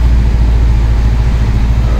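A MAZ five-ton truck drives along a road, its engine giving a loud, steady low drone with continuous road rumble from inside the cab, and no pauses or changes in pace.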